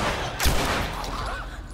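A weapon firing in the video game The Last of Us, with one sharp close shot over a dense, noisy burst of game sound that lasts under two seconds.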